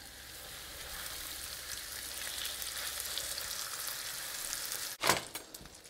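Thin curried chicken cutlets fry in a pan with a steady, close sizzle that slowly swells, then a brief sharp clatter near the end.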